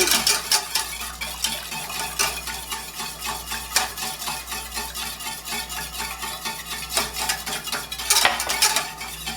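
Alfredo sauce being whisked in a pan on low heat, a rapid, continuous metallic whisk clatter and scraping against the pan, fairly close and steady throughout without talk.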